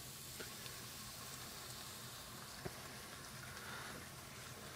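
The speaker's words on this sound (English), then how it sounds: "We are going to deglaze with some Chardonnay." A pan of sweating mushrooms deglazed with Chardonnay, giving a faint, steady sizzle with a few light clicks and no voices.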